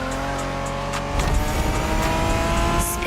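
A 1990s Honda NSX races in The Crew Motorfest video game, its engine droning steadily and then revving harder with tire squeal, loud and close with no talk.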